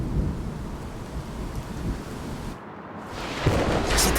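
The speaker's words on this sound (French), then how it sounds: "Un coup de tonnerre assourdissant claqua soudain." Thunder rumbles in a narrated story, a deep, steady roll under rain-like hiss that briefly dips before a sharper, louder crack near the end.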